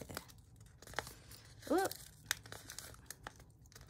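A sticker peels and tears from a planner page in a few close, crinkly rips, with a short burst of tearing in the middle, and a voice exclaims briefly.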